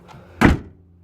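A Honda Element clamshell door with exposed hinges shuts with one solid, deep clunk, close and loud, after a faint small tap just before it.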